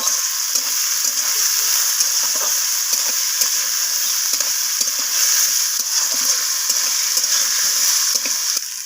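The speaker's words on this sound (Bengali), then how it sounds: "তো গাজর বিনস আর ফুলকপিটাকে আমি ভাজা ভাজা করে নিচ্ছি।" Carrots, beans and cauliflower frying in a pan, with a steady loud sizzle and hiss throughout and faint intermittent stirring scrapes underneath.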